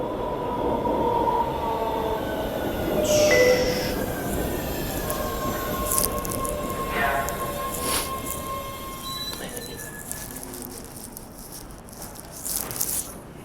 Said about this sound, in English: Oh, here comes the train again.